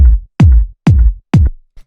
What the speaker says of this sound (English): nice punchy 909 kick.